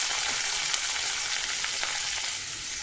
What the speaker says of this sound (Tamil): கடுகு, உளுந்தம்பருப்பு, கடலைப்பருப்பு போட்டு தாளிக்கிறோம்